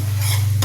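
A spoon stirs a besan and sugar syrup mixture in a pan, a short soft scraping swish over a steady low hum.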